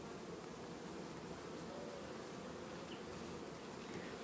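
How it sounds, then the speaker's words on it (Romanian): A returned honeybee swarm hums steadily at its hive, a dense, even buzzing of many bees that holds at the same level without pause from start to finish. "Acesta este un caz fericit că s-a întors roiul înapoi, că putea să plece."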